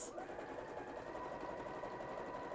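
A home sewing machine stitching a seam, a quick, even mechanical whirr and patter running continuously up close, with no talking.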